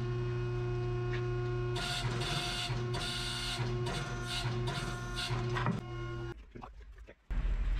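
A 100-ton hydraulic press squeezes a welded steel block, a steady loud mechanical hum and whine with creaking and straining texture that cuts out near the end.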